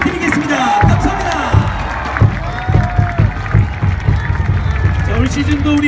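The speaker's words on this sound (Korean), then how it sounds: "큰 박수로 부탁드리겠습니다" Crowd applause and cheering fill a Jamsil home baseball stadium for the LG Twins after a win over SK, loud and sustained, with a voice on the PA talking over it.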